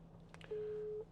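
A steady electronic busy tone sounds once for about half a second after some faint clicks, over a quiet background hum, from a phone call placed through Apple CarPlay in a 2018 Land Rover Discovery.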